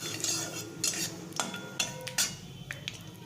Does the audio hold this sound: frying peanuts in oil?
yes